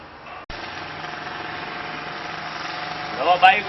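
A motorcycle engine idling and revving at moderate distance, a steady buzzing drone that rises slightly near the end, with a voice speaking over it.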